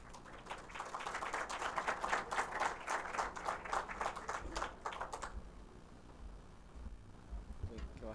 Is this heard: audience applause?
yes